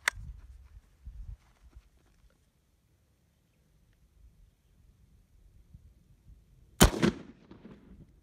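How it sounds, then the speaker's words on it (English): Gunfire from Italian 1953 surplus 8mm ammunition, one sharp loud report near the start and another after a quiet gap, each with a short rumbling tail, close to the microphone. "really light hang fire again"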